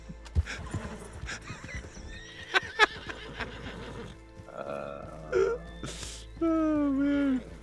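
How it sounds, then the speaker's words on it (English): A horse in a video game neighs and whinnies repeatedly, with clip-clop hoofbeats and snorting, the loud drawn-out whinny near the end standing out clearly. "my horse won't stop."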